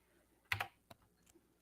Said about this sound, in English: I have to wake my keyboard up.